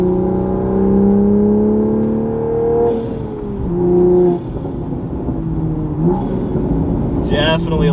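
A Toyota Supra with an aftermarket exhaust revs in sport mode, its engine tone climbing and falling through several throttle blips, with gurgles and pops near the end and someone talking over it.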